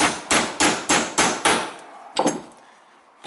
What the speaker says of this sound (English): and in that area, I hammer also.